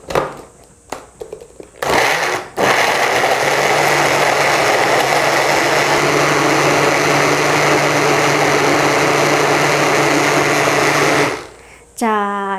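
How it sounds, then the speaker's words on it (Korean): A kitchen blender grinds tomato and other ingredients with water for cold noodle broth, starting after a few clicks and running loud and steady for about nine seconds before winding down and stopping. "그래서 이것을 한번 갈아 볼까요?"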